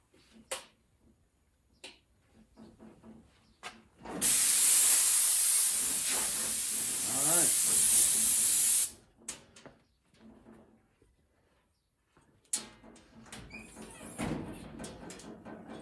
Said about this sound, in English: let me plug the compressor in